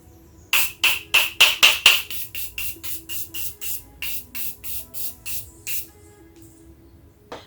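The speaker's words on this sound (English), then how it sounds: "I'm just quickly going to set my face with the Morphe Continuous Setting Mist." Morphe Continuous Setting Mist sprayed onto a face in a quick run of about a dozen and a half short, close hissing pumps, strongest at first and gradually softening, with no talking.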